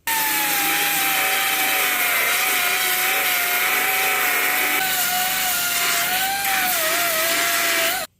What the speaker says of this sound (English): I'm going to hit all that with the little belt sander thing in there and clean that up